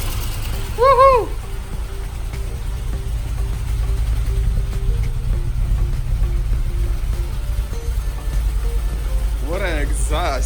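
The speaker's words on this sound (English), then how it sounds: "What an exhaust!" A rebuilt 2013 Audi S6 engine and exhaust idling steadily just after its first start, a deep continuous low rumble, with excited voices cheering briefly near the start and again at the end.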